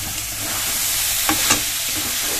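Chopped spinach dropping into a chicken masala with tomato, a loud, dense, hissing sizzle that stays steady throughout, with a couple of brief stirring scrapes near the middle.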